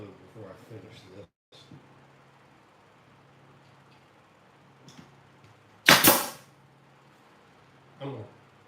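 A brad nailer fires a 1-inch stainless brad into a wooden planter box with one sharp, loud pneumatic crack. A softer thump follows later, and speech comes before it.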